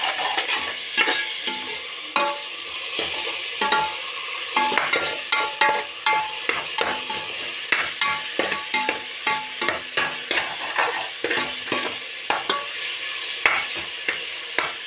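Chicken biryani masala with coriander and curry leaves sautés in a pan, close and loud. Rhythmic scraping stirs scrape over a continuous sizzle, with no talking.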